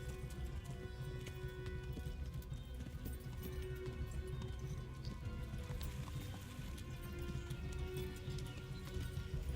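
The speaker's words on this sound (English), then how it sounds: "I'd say those horses aren't coming back after me." Horses gallop in the video game Kingdom Come: Deliverance, a steady dense drumming of hooves that runs the whole time at moderate volume with no talking.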